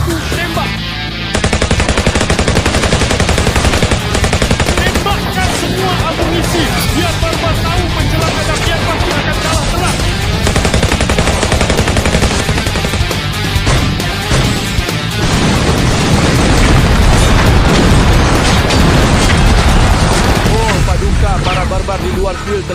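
Loud, dense gunfire and booming cannon blasts rattle continuously, a chaotic barrage with voices shouting underneath, with a countdown order to fire all ammunition.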